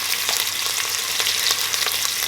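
Sausage sizzles steadily in hot oil in a pan for a smoked sausage and scarlet runner bean stew, a dense continuous crackle with small pops throughout, loud and close with no talking.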